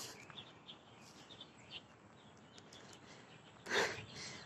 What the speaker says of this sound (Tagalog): Feeling ko yung nasa langgal ako ba na puro ibon lang ang maririnig mo.